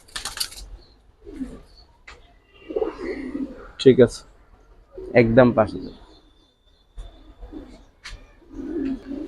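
Giribaz pigeons coo in soft, low bursts at close range, mostly under a man's ongoing conversational speech.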